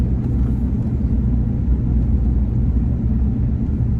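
A 2005 Ford F-150 pickup driving on the road, heard from inside as a steady low engine and road rumble with constant tyre noise and no distinct events.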